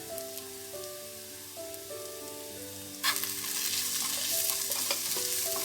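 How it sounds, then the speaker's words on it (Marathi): Roasted peanut powder sautéing in oil for a rustic green tomato bharit, with soft music tones first, then a loud, dense sizzle and stirring that bursts in about halfway and keeps going close to the pan. "हे आता 1 मिनिटासाठी परतून घेऊन"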